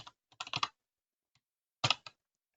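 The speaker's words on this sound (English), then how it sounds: "We're simply going to type that out in our assertion." Computer keyboard typing in quick bursts of clicks, a short cluster of keystrokes, a pause, then another brief flurry, close and fairly quiet with no talking.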